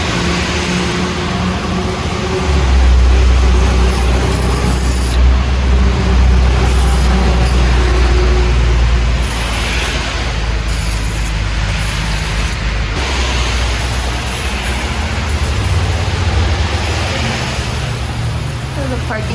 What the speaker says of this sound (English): we're using a power washer